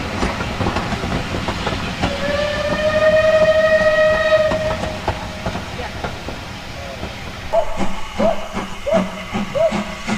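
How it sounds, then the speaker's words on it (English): Two steam locomotives haul a rake of Southern Region coaches slowly into a station, with a rumbling, hissing train and a long whistle near the start, then a rhythmic series of chuffs and clanks; a voice talks underneath. "Two powerful engines gently make their way into the station"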